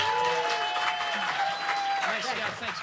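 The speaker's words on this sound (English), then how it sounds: "another round of applause for Walter" Community hall audience applauds a musician at an open-mic evening, a continuous crowd clapping and cheering sustained throughout with voices and a sustained tone mixed in.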